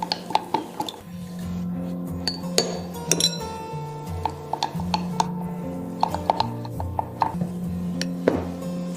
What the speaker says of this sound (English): We gradually add the dry ingredients that we had already mixed and mix it really